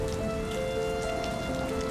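Rain falls in the video game Rime, a steady, dense hiss with soft spattering and a faint tonal hum underneath, even and uninterrupted throughout.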